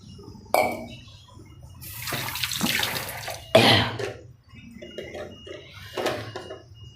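Water is poured from a small vessel into a cooking pot for millet khichdi, with several separate splashing pours of varying length, close and fairly loud.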